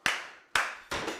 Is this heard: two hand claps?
yes